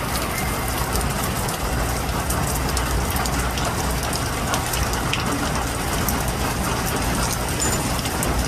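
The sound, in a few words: rain during Hurricane Zeta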